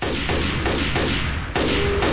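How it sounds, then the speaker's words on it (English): Continuous rapid gunfire in Left 4 Dead 2, loud and close, bursts repeating about every third of a second with a brief break and a sharp restart near the end. "I'm shooting, but I don't think I'm hitting anything"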